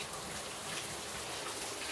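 Heavy rain pours down on a workshop, a dense, even hiss of drops drumming on the roof and surfaces, loud and unbroken with no talking.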